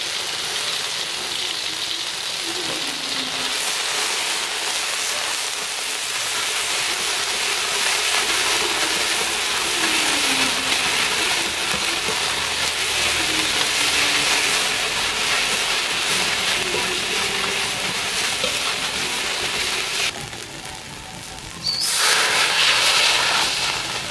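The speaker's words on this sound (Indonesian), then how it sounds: "kita tumis dulu bumbunya" Continuous loud sizzling hiss of Indonesian spice paste being sautéed in a hot pan, steady throughout with faint clinks and a brief dip near the end.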